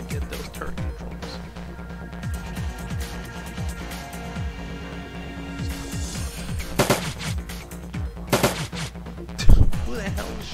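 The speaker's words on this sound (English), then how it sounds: "Who the hell is shooting?" Gunfire from a firefight in the video game Shadowrun: Dragonfall: rapid bursts of shots rattle under a steady game background, with a few louder sharp cracks near the end.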